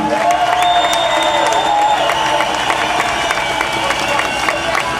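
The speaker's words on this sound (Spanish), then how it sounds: "pido un gran aplauso en esta plaza" A large outdoor crowd in a plaza at an election rally applauds and cheers continuously, a dense wash of clapping with a few raised voices mixed in.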